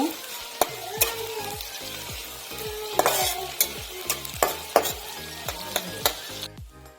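Chopped onion and garlic frying in a hot pan, a bright steady sizzle broken by repeated sharp scrapes and taps of a spatula stirring, close and loud, ending abruptly.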